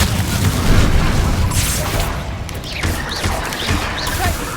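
Spell blasts in the Hogwarts Legacy video game boom loudly, with a heavy explosion up front followed by several crackling bursts and pops as the noise decays.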